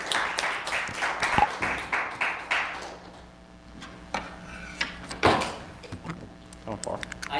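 An audience at a lecture event claps in a burst of applause that fades out, followed by scattered thumps and handling noises with people talking nearby.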